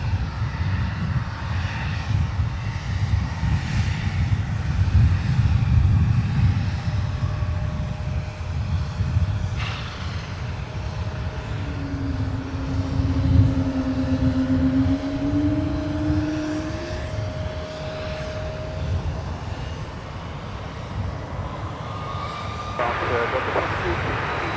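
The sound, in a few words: CRJ 900LR jet aircraft at Minneapolis–St. Paul Airport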